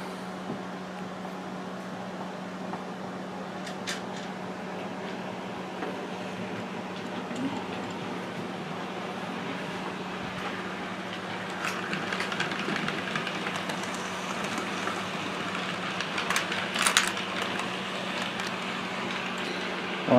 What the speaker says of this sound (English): The mail train on the way.